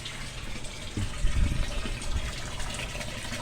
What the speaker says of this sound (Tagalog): bulabok ng tubig na nang gagaling sa water filter